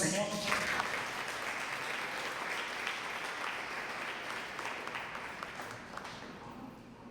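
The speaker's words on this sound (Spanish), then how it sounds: "Dando fuerte aplauso al Señor." A church congregation applauding loudly during a sermon: dense, sustained clapping from many hands filling the room, gradually easing toward the end, with a voice briefly audible underneath.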